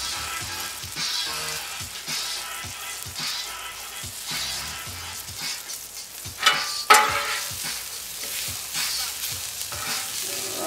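Burger buns sizzling on a 36-inch Royal Gourmet flat top grill, a steady close frying hiss with scattered spatula scrapes and taps, plus a louder clatter near the middle.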